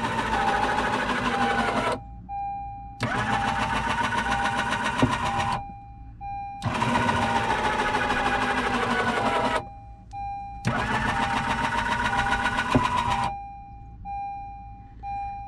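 A Blue Ox flat tow brake system actuator presses the brakes of a 2014 Honda CR-V, a loud mechanical whirring buzz that runs in four long bursts with short pauses between, a steady tone beneath.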